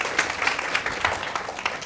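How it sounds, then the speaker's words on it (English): A lecture audience gives a short burst of applause for the evening's final speakers at a talk on wood and 3D-printed timber building, a dense patter of many hands at moderate level with no pause. "please give the very big round of applause for our final speakers tonight"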